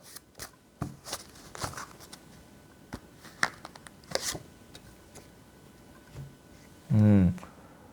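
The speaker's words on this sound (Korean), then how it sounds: "마지막으로 소울 메시지 카드 하나 뽑도록 할게요" A soul message tarot card deck is shuffled and one card drawn, heard as sparse, crisp card snaps and soft slides up close, ending with a brief burst of voice.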